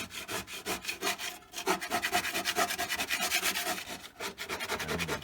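A tool scrapes a C1 Chevrolet Corvette fiberglass gas tank in quick, rhythmic back-and-forth rasping strokes, close and loud, with one brief pause midway.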